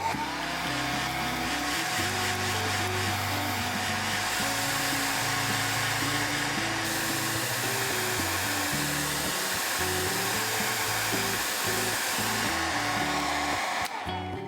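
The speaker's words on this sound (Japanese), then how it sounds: "ドライヤーを使って乾かします。" A hair dryer blows steadily and loudly to dry a wet watercolour pencil painting, a continuous whirring hum that holds through the whole stretch before cutting off near the end.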